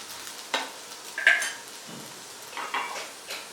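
Half-cooked potatoes frying in a pan for a Tamil potato fry, a soft sizzle under a few scattered utensil scrapes and clinks, close and fairly quiet.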